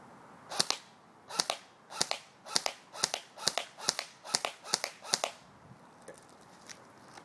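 An Echo1 AK-74U airsoft gun fires 0.2 g BBs on semi-auto, giving about a dozen sharp, close, snappy cracks at an irregular, roughly half-second pace, each followed by a quick decay.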